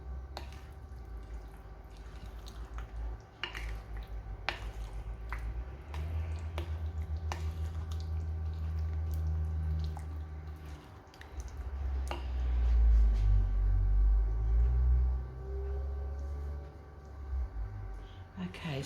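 Christmas cake batter stirred with lightly beaten eggs mixed through, a soft wet squishing and dripping scrape repeating in a bowl, fairly close, with low thumps throughout and no talk.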